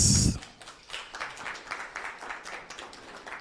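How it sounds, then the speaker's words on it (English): Scattered audience applause at a climate change prize competition, light uneven clapping from a modest crowd following a brief loud burst at the start. "A round of applause."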